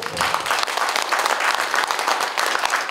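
Audience applause at a Korean culture and arts awards ceremony, a full room of hands clapping in a loud, steady burst with scattered sharper claps, no voices over it.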